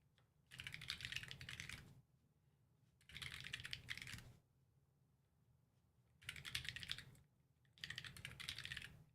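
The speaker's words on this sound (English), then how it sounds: "Let me type in some secrets." Computer keyboard typing in four quick bursts of soft rapid key clicks separated by pauses, close and faint with no voices.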